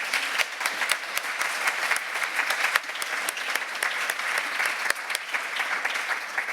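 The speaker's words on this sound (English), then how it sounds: "we'll have a quick round of applause for our four," A room of symposium attendees applauds at the close of a seascape restoration session, a steady, moderately loud wash of many hands clapping with a few sharper claps standing out, no voices over it.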